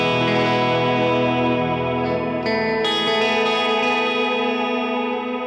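Bright, shimmering reverb from an M-Vave Blackbox guitar effects unit with stock settings, sustained guitar chords ringing with a long wash and slight chorus-like sheen, loud and continuous with no talking.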